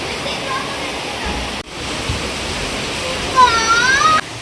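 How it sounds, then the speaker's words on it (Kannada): Sudden heavy rain pours down steadily as a broad, even wash, close and loud, with a voice speaking over it partway through. "ಸಡನ್ನಾಗಿ ಎಷ್ಟು ಮಳೆ ಬಂದ್ಬಿಟ್ಟೈತೆ ನೋಡಿ"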